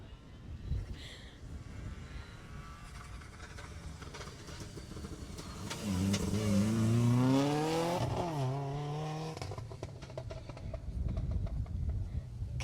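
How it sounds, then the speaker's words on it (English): A rally car on a stage of the Jersey Rally approaches from a distance, its engine rising in pitch and loudness through gear changes, peaking as it passes close by, then receding with lingering engine noise. "So you can hear the next car approaching."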